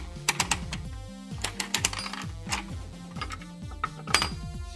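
A gumball candy machine's vending mechanism cranks through repeated cycles, giving off rapid clicking, rattling mechanical ticks in a steady rhythm, up close and with no one talking.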